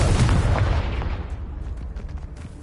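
A Confringo fire spell explodes in Hogwarts Legacy: a heavy, booming blast that rolls off and fades with crackling debris.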